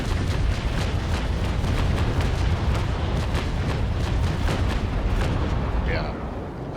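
Naval Action broadside from the frigate Trincomalee: a dense, continuous roar of many ship cannons firing in rapid succession, loud and rumbling, with overlapping booms that ease off near the end.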